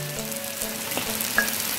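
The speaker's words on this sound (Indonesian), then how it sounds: "Kita goreng ala-ala naik bau dia macam tu." Black anchovies and petai beans fry in a pan with a steady, close crackling sizzle that runs throughout, with no voices.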